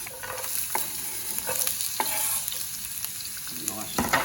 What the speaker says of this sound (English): I always prefer to cook my onions first before I throw the garlic in.